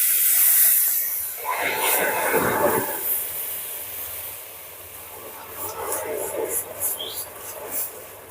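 Milk poured into hot caramel hisses and foams in a brief loud burst, then settles into softer bubbling and sizzling, with a voice speaking over part of it.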